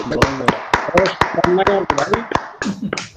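Audience applause at a hemophilia sensitisation programme comes as a string of sharp, close handclaps, sparse and uneven in rhythm rather than a full ovation, with voices murmuring between them.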